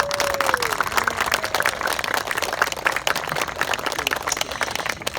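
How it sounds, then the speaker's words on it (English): An outdoor audience at a Tacoma park dedication gives a round of applause, a steady patter of many hands clapping at moderate distance, with a brief tonal sweep early on. "Can we give them a round of applause?"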